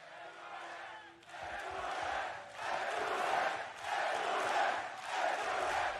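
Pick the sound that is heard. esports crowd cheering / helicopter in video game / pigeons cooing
esports crowd cheering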